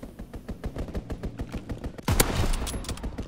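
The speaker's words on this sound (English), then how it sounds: "Strafing run inbound." Aircraft strafing run in Call of Duty: a rapid string of gunshot bursts gives way to a loud, close, sustained roar of fire and impacts that carries to the end.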